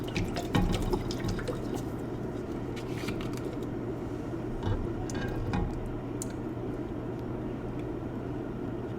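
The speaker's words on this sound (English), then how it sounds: "And then we're gonna pour the beef broth." Beef broth poured into a pot for Irish beef stew, a steady close liquid pouring and splashing that runs throughout, with a few brief clinks near the start.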